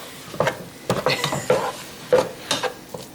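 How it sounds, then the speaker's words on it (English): Ground meat and garlic browning in a pot for chili, stirred with a utensil that scrapes and clanks against the metal in a steady, uneven rhythm under a soft sizzle. "And then we're just gonna brown this meat with the garlic."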